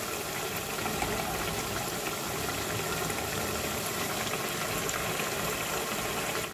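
Eggplant pieces frying in a pan of hot oil, a steady dense bubbling sizzle that stays loud and even throughout, with no talking.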